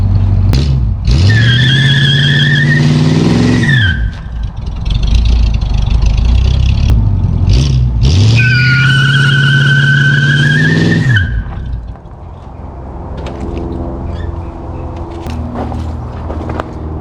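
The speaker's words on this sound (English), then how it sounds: "It'll definitely do more burnout, but that's all I'm going to give it today" 1966 Ford Thunderbird revived after sitting for years, doing two loud, close burnouts: engine revs climb and hold while tires squeal steadily, each burst ending abruptly, then a quieter idle.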